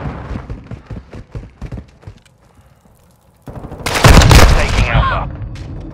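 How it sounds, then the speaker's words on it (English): Call of Duty Modern Warfare II match where a flash grenade goes off: scattered gunfire and footsteps first, then a sudden loud, sustained burst of noise with a ringing tail filling the last couple of seconds, under faint radio-style voices. "Throwing flash grenade."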